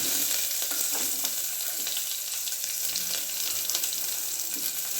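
Chopped onion and garlic frying in a pan for a village-style greens sambar: a continuous close crackling sizzle with faint stirring scrapes, steady throughout and free of talk.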